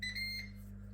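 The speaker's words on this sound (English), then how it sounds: "And we've beeped." Ninja Foodi air fryer cooking fried chicken gives a short electronic beep, a couple of quick high tones over a steady low fan hum.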